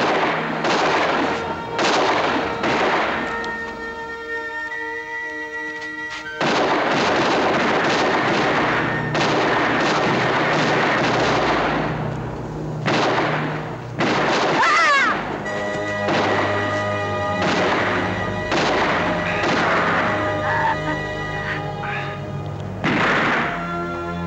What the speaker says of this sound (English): You have 8 shots, don't waste. Shoot!